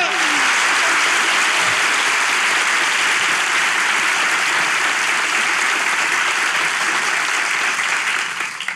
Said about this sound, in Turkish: ilişki testi alkışlarla sona eriyor